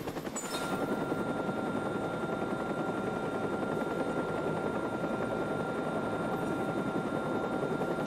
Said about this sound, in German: Das größte Problem, liebe Freunde, ist halt der Heli. Der ist halt die ganze Zeit über deren Köpfe.